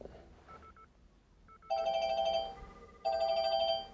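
A Japanese public payphone ringback tone: two long electronic ringing tones, each about a second, separated by a brief pause, after a few faint beeps; steady and clear with no talk.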